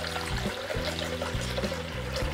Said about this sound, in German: Damit wir die Bohnen gleich garen können, brauchen wir jetzt natürlich Wasser im Mixtopf.